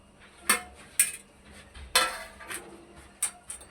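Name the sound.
stirring bottle gourd kheer in a pot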